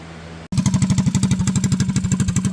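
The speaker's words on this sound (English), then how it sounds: "here's just a little video of it idling with the stock carb" Predator 212cc small single-cylinder engine idling on its stock carburetor with the governor zip-tied, a close, loud, rapid even chug that starts abruptly after a brief quiet moment and runs steadily alone.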